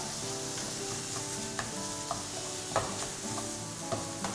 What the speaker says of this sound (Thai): ค่อยๆผัดนะครับ